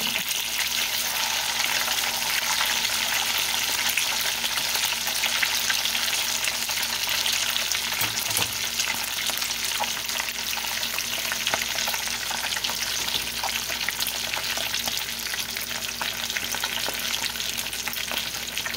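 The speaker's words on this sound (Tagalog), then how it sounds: "Kulong-kulo ang mantika." Fish frying in bubbling hot oil, a steady dense sizzle and crackle that runs loud and unbroken throughout, with no talking.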